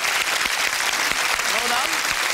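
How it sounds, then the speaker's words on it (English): A studio audience at a UK TV game show applauds steadily, a full even patter of clapping, with a voice briefly cutting through partway in. "A round of applause for the curry people here."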